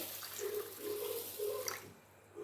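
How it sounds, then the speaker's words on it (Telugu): Water being poured from a pot into a bowl to soak ulavalu (horse gram), a steady splashing pour broken into a few surges before it stops. "ఒక చెంబు నీళ్లు పోస్తున్నాను అనమాట"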